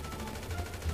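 Rapid gunfire from a GTA 5 roleplay shootout in a favela, a dense burst of shots at moderate level with a few stronger pops near the end and no talking.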